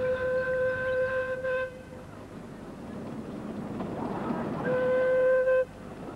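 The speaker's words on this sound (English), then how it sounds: "The Diamond Creek Miniature Railway carries thousands of satisfied passengers every weekend." The Diamond Creek miniature railway train at Eltham Lower Park sounds two long whistle blasts, one early and one near the end, with a low rumble of the moving train between them.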